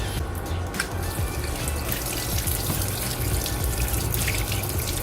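A steady, loud hiss of water spraying on a motorcycle chain runs continuously, with splashing and dripping textures throughout and no voices.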